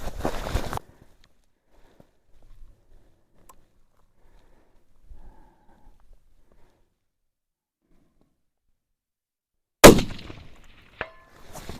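Two sharp rifle shots ring out toward a 300-yard target in low light, one at the very start and one near the end. The long gap between them is quiet apart from faint shuffling.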